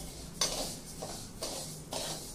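Rice dry-roasts in a pan for thalipeeth bhajani, giving a steady close rustling hiss with three or four scraping stirs of grains against the pan.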